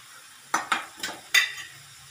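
A spoon scrapes and stirs masala frying in a pan, giving four or five short, sharp clinking strokes against the metal over a faint sizzle.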